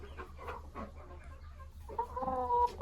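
A hen clucks in a series of short, close calls in a poultry coop with nesting boxes, with a few brighter, more tonal clucks near the end and no talking.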